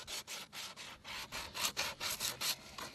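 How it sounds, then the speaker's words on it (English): Sandpaper rubs back and forth on a horse's hoof wall in quick, rhythmic strokes, about a dozen close, scratchy passes heard alone without talking. "which is why I'm using sandpaper."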